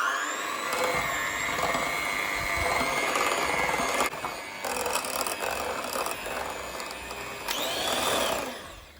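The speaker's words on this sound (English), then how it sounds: "I'm just going to whisk it till it's soft peaks" An electric whisk beats a mixture with three tablespoons of caster sugar for a mango cake, a steady, close motorised whirr with brief dips in pitch as the beaters move through the bowl, easing off at the end.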